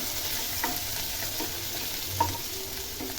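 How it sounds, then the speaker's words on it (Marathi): Grated ginger and garlic sautéing in hot oil, a constant close sizzle with a few soft spoon scrapes and taps from stirring, no voices over it. "तेल गरम झालं की आपण जे आलं आणि लसूण जे किसून घेतले ते आपल्याला तेलावर टाकून घ्यायचं आहे बघा छान परतून घेऊया"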